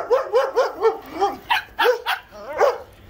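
Several big dogs bark in a rapid series of loud, close barks and yips, with short pauses between bursts.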